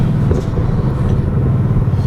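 2016 Mustang GT with longtube headers and MBRP mufflers rumbles loud and close, a deep continuous exhaust drone with rough crackly texture through a free-flowing street exhaust.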